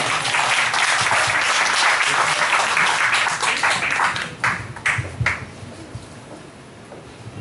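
At a singer's fan club launch ceremony, an audience claps in a thick burst that thins after about four seconds into a few scattered, distinct hand claps before the room quiets.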